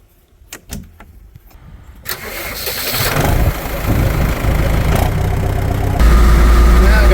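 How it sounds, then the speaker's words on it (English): A tractor engine cranks and catches after a few quiet clicks, then settles into a loud, steady idle close by that builds slightly toward the end. "I think I'm going to grab the tractor to slide it forward the rest of the way"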